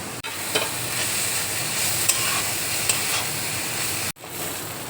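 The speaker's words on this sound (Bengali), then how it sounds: "লাউটা দেখো ভাজা হয়ে গেছে" Bottle gourd sizzles steadily in a hot pan for several seconds, with the soft scrape of a spatula stirring it and a sharp clack of the utensil near the end.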